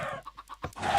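Minecraft chickens in a farm pen give a few short, soft clucks in a choppy run, with no talk over them.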